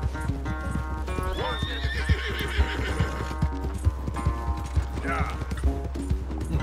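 Galloping hooves clip-clop in a steady rhythm while a horse neighs during a race in Red Dead Redemption 2, with game background music and voices talking over it.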